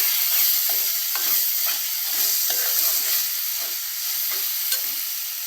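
Ingredients for mutton curry fry in a pan with a loud, continuous sizzle and hiss, broken by a regular series of quick stirring scrapes, close up and with no voices.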